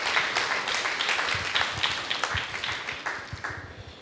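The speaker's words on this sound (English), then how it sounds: "Next, let's clap for her." Audience applause for a judge at a church celebration event, a dense round of clapping with individual claps growing more distinct and sparse toward the end.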